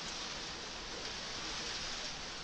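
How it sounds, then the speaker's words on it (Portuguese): Heavy rain falls steadily in an even hiss picked up by a microphone, with no voices. "desculpa se ficar barulho de chuva no microfone"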